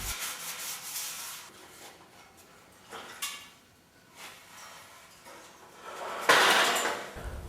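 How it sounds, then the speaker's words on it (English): Steel tube car chassis in light gray primer with surface rust being sanded by hand, a steady rubbing scrape that comes and goes in strokes, with a louder, harsher burst near the end; no talking. "We spend a couple of hours sanding the chassis, doing one tube at a time."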